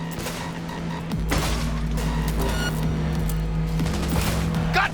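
Cyberpunk 2077 gunfire during a vehicle chase on hard difficulty: rapid bursts of shots over a steady engine-like hum, continuous and fairly loud throughout with no voices.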